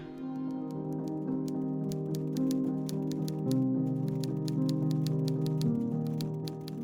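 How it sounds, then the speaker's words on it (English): Typewriter keys clatter in a quick, steady run of sharp clicks while a statement is typed up, with a sustained musical tone underneath. "a statement is typed up."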